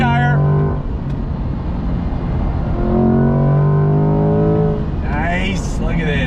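A 2021 Chevrolet C8 Corvette with its V8 and Tremec 8-speed accelerating from a stop, a loud steady engine drone rising through the gears, heard from inside the car with excited voices over it.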